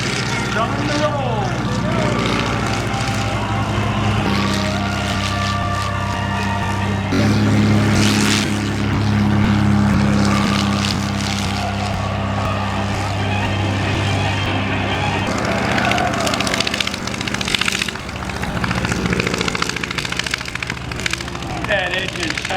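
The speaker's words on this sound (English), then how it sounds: "that is exactly how a 5-cylinder radial engine sounds" A Ryan PT-22's five-cylinder radial engine drones loudly and continuously through its takeoff roll at an air festival, its uneven, sputtering note rising and falling as a voice talks over it.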